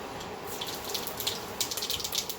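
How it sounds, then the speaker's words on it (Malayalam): Mustard seeds crackle and pop in hot oil in a pressure cooker, a faint hissing sizzle with scattered sharp pops growing busier toward the end. "കടുക് പൊട്ടിക്കഴിഞ്ഞു."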